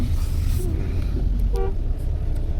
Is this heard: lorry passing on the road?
yes